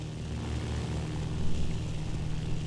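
Propeller warplanes approach in the Battlefield 1942 Midway naval battle, a steady, loud engine drone that swells slightly midway and holds throughout without voices.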